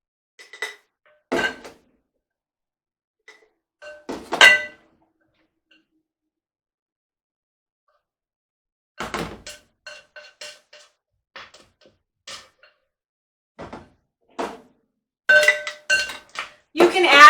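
Kimchi gets stirred in a bowl and spooned into a glass mason jar, giving scattered short clinks and taps of utensil against glass and dish, with brief quiet gaps and a voice talking now and then.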